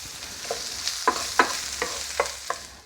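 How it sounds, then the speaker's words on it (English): Chopped onion frying in oil in a hot pan, a steady close sizzle broken by several sharp scraping stirs spaced roughly every half second, with no voices. "Got the oil down. Chopped onion down. Get that pan nice and hot."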